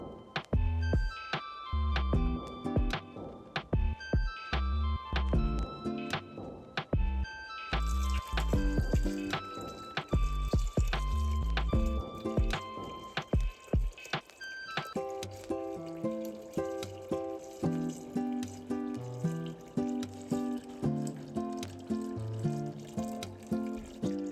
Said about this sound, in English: So let's do the siphoning.